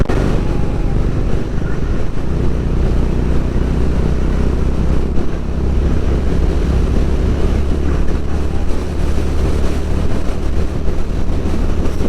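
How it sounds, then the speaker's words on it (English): Honda CB350 motorcycle cruising on a highway, a steady low engine drone almost buried under loud, constant wind buffeting. "Vinay is actually riding my bike right now, and this is actually what it looks like when you put your legs on the Zana crash guard and ride it highway style"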